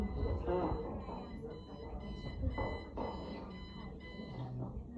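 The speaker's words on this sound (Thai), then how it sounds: "ขนาดมีนาฬิกาปลุกแล้วยังไม่ตื่นอีก" An alarm clock rings in repeated high bursts that carry through the whole stretch, mixed with voices talking over and around it.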